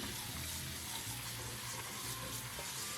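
Steady running tap water pours over fresh asparagus spears being rinsed in a kitchen sink, a continuous close splashing wash that stays even throughout with no talking.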